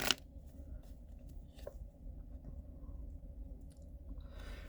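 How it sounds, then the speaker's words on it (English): Tarot cards shuffled by hand at close range: a sharp riffle at the start, then quiet soft card brushes and light handling, with a rustle of cards building again near the end. "One more shuffle."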